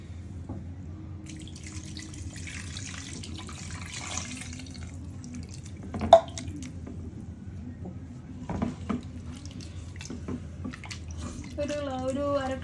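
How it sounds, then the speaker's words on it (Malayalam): A glass of water is poured into a pot of hand-mixed fish curry masala in a home kitchen, giving a soft, splashy hiss for a few seconds. Quiet clinks and handling noises follow. "അതിലേക്ക് നമുക്ക് 1 ഗ്ലാസ് വെള്ളം ഒഴിക്കാം"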